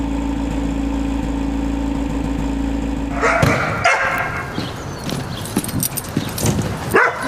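Hunting dogs in the Siberian taiga bark in sharp, irregular bursts after a steady engine idle cuts off, the barks loud and close amid rustling movement.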